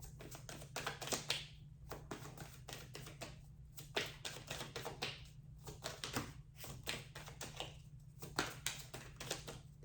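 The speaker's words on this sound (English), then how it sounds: "This isn't the easiest deck to shuffle, but I'm doing my best." A tarot card deck is shuffled by hand up close, with quick bursts of crisp, papery clicking and tapping in irregular runs and short pauses, with no voices.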